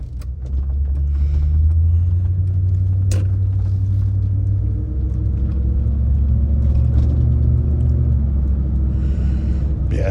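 A 1998 Land Rover Defender 90 50th Anniversary engine idles with a loud, steady low rumble, a sharp click early on and a slight shift in tone midway, with no talk over it.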